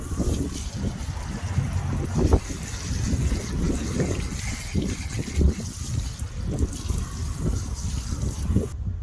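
Water spraying steadily over a car tyre to rinse off wheel cleaner outdoors, a continuous close hiss with some wind rumble and faint scattered knocks throughout.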